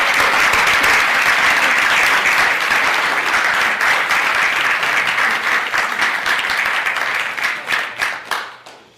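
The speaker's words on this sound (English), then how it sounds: "let's give this gentleman a warm round of applause" Audience giving a warm round of applause to welcome a guest speaker, sustained dense clapping that thins into scattered claps and fades out near the end.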